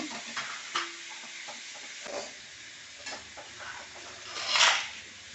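A spoon stirs vegetable curry with turmeric in a pan, giving soft scraping strokes over a low, steady sizzle, with one louder scrape near the end.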